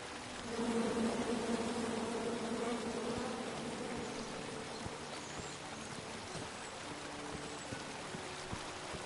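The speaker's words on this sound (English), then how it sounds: "Come at me, bees!" A swarm of bees buzzes in King's Quest, a dense droning hum that swells early and then settles into a fainter, steady buzz.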